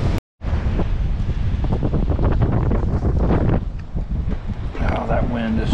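Strong wind buffets the microphone outdoors at a truck camp, a loud, roaring rush that gusts without pause and drowns out other sound.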